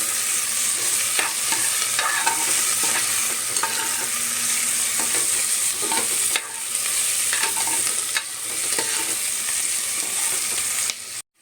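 Onions brown in a pan for a bisibelebath tempering, with a continuous sizzle and frequent scraping stirs. Two brief pauses break the frying.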